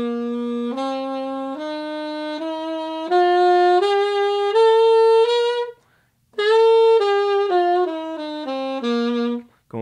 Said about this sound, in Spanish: Sol mayor suena así.